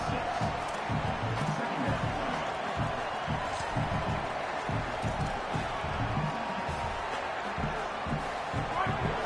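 Stadium crowd at a UCLA college football game, a broad steady roar of cheering spectators urging on the defense in the red zone, with a commentator talking over it throughout.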